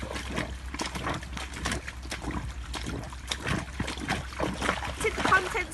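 A foot kicks through shallow stream water into a net, making close, repeated splashing and trickling sloshes in an irregular rhythm over a steady outdoor background.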